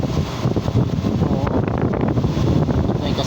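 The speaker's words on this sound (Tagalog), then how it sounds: "Kasama ng hangin." Strong wind during a rainstorm roars continuously and close to the microphone, a dense, steady buffeting rush with no voices.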